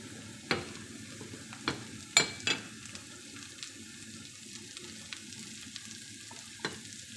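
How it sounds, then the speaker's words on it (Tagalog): Onions frying in butter in a pan for garlic fried rice, a soft steady sizzle with a few sharp clacks of stirring, close and quiet with no talk. "butter lang po yung nilagay ko guys, butter. Tapos lagyan natin sibuyas"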